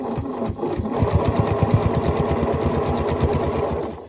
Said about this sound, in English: we have to slowly sew right in the ditch